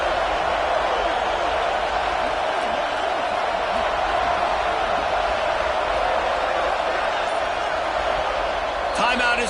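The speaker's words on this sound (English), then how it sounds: "3rd down play in the red zone, and this crowd is at fever pitch" A loud, dense stadium crowd roars steadily at a college football game during a third-down play in the red zone, sustained cheering filling the whole span with a brief sharp burst near the end.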